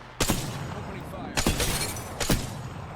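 Three sharp, loud sniper rifle shots from Apex Legends ring out in steady succession about a second apart, each a sudden crack with a short decaying tail over a low game-ambience bed.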